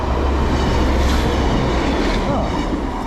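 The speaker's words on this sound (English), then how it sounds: "The train line." A train rumbles past close by, a steady loud roar of wheels on rails with no break across the few seconds.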